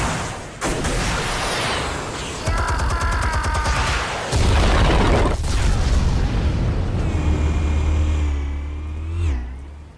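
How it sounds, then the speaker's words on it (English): Explosives detonating in Batman: a deep rumbling blast that swells and holds loud, layered with mechanical whirring, metallic clanks and rising whines, ending in a fading roar. "Explosives armed. Fire when ready."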